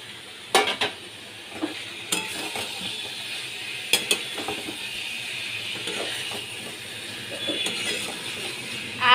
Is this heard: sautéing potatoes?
yes